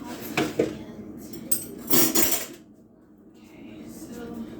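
Pots, pans and metal utensils clatter and clink in sharp bursts as a kitchen dishwasher is loaded, close by and irregular, with quieter handling noise between the clashes.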